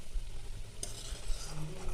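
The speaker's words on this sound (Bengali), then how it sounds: "এইভাবেই আমি পরপর ফুলুরিগুলো ভেজে নেব" Fulori fritters frying in hot oil in a home kitchen, a brief near sizzle with a soft stirring scrape partway through, no voices.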